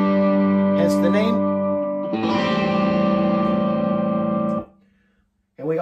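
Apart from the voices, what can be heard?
crunchy distorted guitars in a song's last chorus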